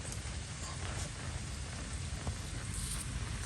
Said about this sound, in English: get out this rain. I'm getting soaked.